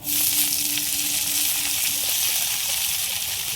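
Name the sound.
fenugreek leaves frying and being stirred in pan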